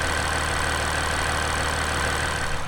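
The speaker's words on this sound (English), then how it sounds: "you're starting to hear fade out is your high pressure fuel pump" High pressure fuel pump on a Jeep Wrangler EcoDiesel running after a fuel filter replacement, a steady whine over the engine's even idle hum, constant and close with no talk.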